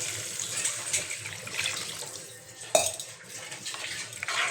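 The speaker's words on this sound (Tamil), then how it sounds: "இப்போ நம்ம இதில் தண்ணி ஊற்றிடுவோம்." Water poured into a pan of already roasted semolina for rava upma, a soft continuous pour with light metallic clinks of the pan, fairly quiet and close.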